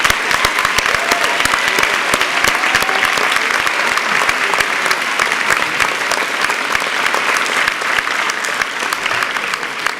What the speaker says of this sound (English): I'd also like to take a moment to offer a round of applause to all of the families who are here